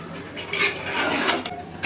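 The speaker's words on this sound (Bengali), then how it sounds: "মাংসটা আমি কষিয়ে নিচ্ছি ভালো করে।" Beef sautéed and stirred in a cooking pot for a homemade Bengali beef curry with taro, giving close scraping and clinking of a utensil against the pot with soft sizzling underneath, alone without talk.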